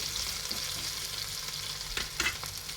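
Faint, steady sizzle of potato frying in a pan for a paneer batata bhaji, with a couple of soft stirring scrapes near the end.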